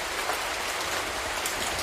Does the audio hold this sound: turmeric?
no